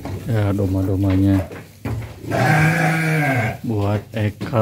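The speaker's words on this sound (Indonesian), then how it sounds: "Ya, domba-dombanya" Sheep in a pen bleat loudly and close by, several long wavering calls in a row with short pauses between them.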